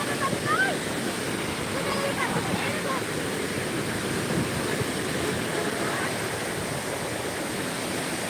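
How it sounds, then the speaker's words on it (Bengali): A strong river current rushes past close by, a loud, dense and continuous roar of water that never lets up, with a voice faintly audible over it near the start. "দেখেন কি পরিমাণ স্রোত"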